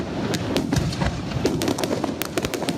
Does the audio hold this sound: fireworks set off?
yes